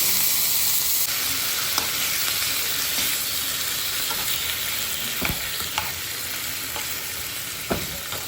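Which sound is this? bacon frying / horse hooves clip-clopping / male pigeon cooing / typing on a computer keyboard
bacon frying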